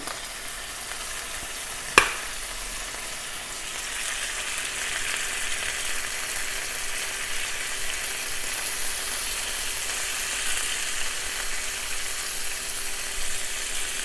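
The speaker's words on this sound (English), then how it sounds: "I'm going to go ahead and put some curry sauce in" Jamaican curry sauce poured into sour cream in a hot pan, with one sharp knock followed by a steady, even sizzle that holds without a break.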